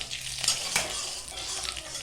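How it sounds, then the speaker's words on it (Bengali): Panch phoron spices hiss and crackle in hot oil for a drumstick chorchori, a bright steady sizzle with a few sharp metallic taps of a spatula against the pan. "তেলটা গরম হয়ে গেছে বন্ধুরা, দিয়ে দিলাম পাঁচফোড়ন"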